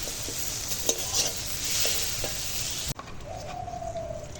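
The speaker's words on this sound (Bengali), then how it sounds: "এখন তেলের ওপর তেজপাতা শুকনো লঙ্কা দিয়েছি" Bay leaves and dried red chillies sizzle in hot oil, a steady bright hiss with a few small pops that cuts off abruptly, followed by quieter room sound with a bird cooing.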